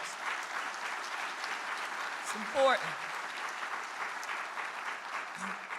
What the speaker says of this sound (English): Can we give our workforce a round of applause?